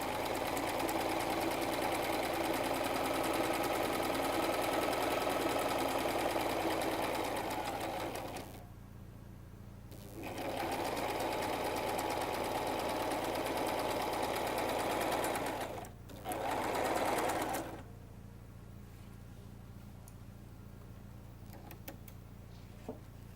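Sewing machine stitching two pieces of cloth together for a salwar, a steady close whir in three long runs separated by brief pauses.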